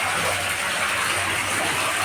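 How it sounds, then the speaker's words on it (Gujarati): Water gushes steadily from a newly drilled farm borewell, a continuous loud rushing flow with no voices. "મિત્રો ફૂલ પાણી આવી ગયું છે."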